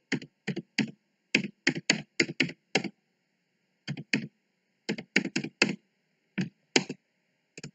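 Fast bursts of crisp key clicks from a computer keyboard as code is typed, coming in irregular clusters with short pauses between runs, close and clear with no talking.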